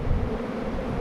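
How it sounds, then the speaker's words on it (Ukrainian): Italian honey bees on orientation flight at the hive make a continuous low buzzing drone, close and even, with slight wind on the microphone. "дуже файно бджола йде на обльот"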